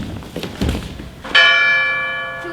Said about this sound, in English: Listen, the church bell!